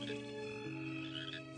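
Frogs croak in a steady, overlapping chorus, droning tones holding without pause, with no voices present.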